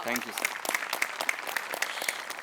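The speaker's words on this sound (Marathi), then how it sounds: "अभिजित पवारसाठी पण एकदा टाळ्या वाजल्या" Audience applause for a performer on a Marathi comedy show, a brief burst of quick, fairly close clapping lasting a couple of seconds with a voice faintly underneath.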